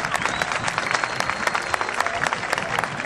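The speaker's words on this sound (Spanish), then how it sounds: "Un fuerte aplauso para la mesa de honor" An audience at a tournament awards ceremony gives sustained, dense applause for the guests of honor, with a busy crowd texture throughout.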